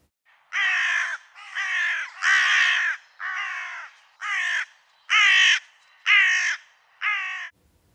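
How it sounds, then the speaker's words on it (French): Carrion crow, the all-black crow of parks and gardens, giving a steady series of eight loud, harsh caws, each about half a second long with brief gaps, close and alone with no talk. "la première, souvent nommée à tort corbeau, c'est la corneille noire."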